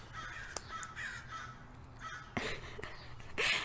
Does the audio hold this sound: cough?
no